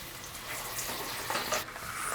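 Flattened croissant sizzling and caramelizing in a pan, a steady, dense frying hiss that holds close and even throughout, with no talk.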